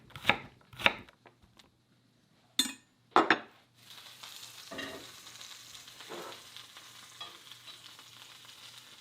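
Moose meat searing in a pan at a cabin: a few loud clanks and scrapes of the pan and utensils, then a soft, steady sizzle continuing underneath, with no talking.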